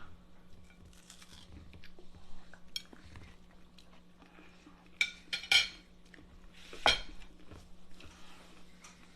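Bites into battered, deep-fried fish, with a few sharp crunchy bursts close to the mic in an otherwise quiet room and a steady low hum underneath.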